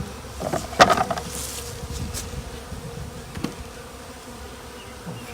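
Honeybees buzz around a hive box during a swarm removal, giving a steady, fairly close drone with individual bees passing near now and then, and no one speaks.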